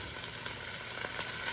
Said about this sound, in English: So I'm probably gonna add a little more ghee.